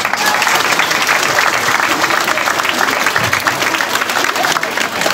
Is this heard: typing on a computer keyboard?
no